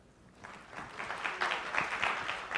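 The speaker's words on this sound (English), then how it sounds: "A huge round of applause to them." An audience at a business analysis conference keynote breaks into applause, starting quietly and building into a steady, moderately distant patter of many hands clapping.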